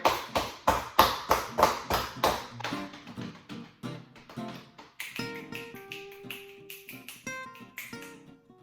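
Feet stomp to imitate thunder, with a run of strong, rapid thumps that then turn fainter and sparser while light background music plays.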